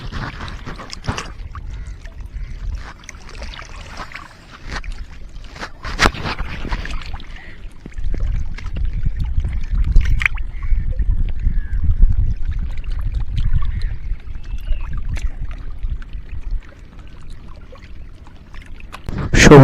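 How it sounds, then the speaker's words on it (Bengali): River water at Haldia laps and splashes against the bank in irregular, fairly loud washes, close by, with a breezy outdoor background and no clear talking. "শুধু জলের আওয়াজটা একবার শোনো তোমরা"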